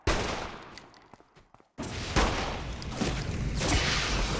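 Gunfire in the video game Saints Row: The Third, dense crackling volleys of shots close and loud, a short lull, then a sudden heavy burst of sustained firing that carries on without talk.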